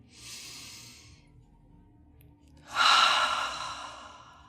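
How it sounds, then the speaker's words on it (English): A person draws a slow, deep breath in through the nose, pauses, then lets it out in a longer, louder airy exhale, close and alone. "take a nice, deep breath."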